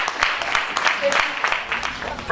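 Audience applauding at a Kwanzaa celebration: scattered, fairly light claps patter steadily throughout, with voices talking over them.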